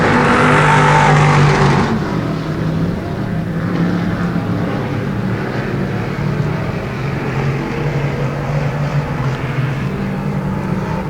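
Dirt track race cars at Genesee Sportsman run a heat race, a dense continuous roar of several engines droning loud and steady, louder at first and then holding as the pack circles.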